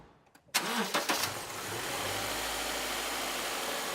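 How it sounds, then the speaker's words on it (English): A car engine cranks briefly and catches, then settles into a steady, low idle that continues to the end. "we're going to start the car"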